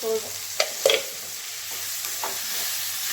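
Green chillies sizzling as they fry in a pan with softened tomato for a potato masala, with a steady hiss and a few sharp scraping stirs of a spoon close by, and a brief word spoken.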